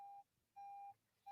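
An alarm gives three short, clean electronic beeps at a steady on-off rhythm, close by and moderately loud in a quiet room.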